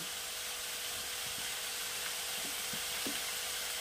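Spinach and chicken cooking in a single pot give off a steady soft sizzle, broken by a few low scraping stirs of a spoon against the pot, close and fairly quiet, with no talk.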